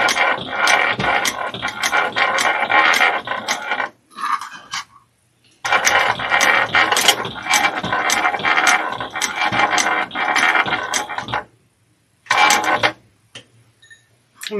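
Domestic sewing machine back stitching through a fabric bag, bursts of fast rattling needle strokes a few seconds long, separated by short pauses and soft handling noises, close and loud.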